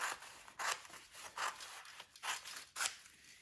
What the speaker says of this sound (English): then you're going to cut these strips alongside